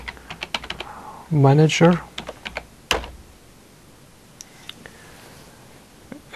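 Keys clatter on a computer keyboard in quick, light bursts of taps, near and fairly clear, with a voice speaking briefly partway through.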